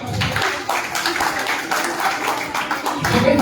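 An audience claps for a prize winner at a drawing competition event, with dense, continuous applause of many hands, fairly loud and steady, with voices mixed in.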